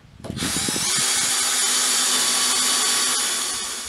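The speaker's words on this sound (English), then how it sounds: "there's no other way to drill in wood at an angle" Power drill boring into wood at an angle while rotten caravan beams are being replaced, a steady loud whine starting within the first second and running unbroken, close up, with no talking.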